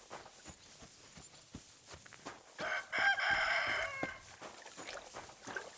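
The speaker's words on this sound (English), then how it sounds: "Yep, and a cock-a-doodle-doo to you too." A rooster crows once in a village near a butcher's shop in the video game Kingdom Come Deliverance 2, a fairly clear, drawn-out call in the middle of quieter ambient ticks and footsteps.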